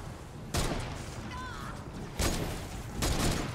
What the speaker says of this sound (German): Hat hier irgendwo eine Hexe noch drauf geschossen,